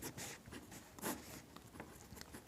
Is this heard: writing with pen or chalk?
yes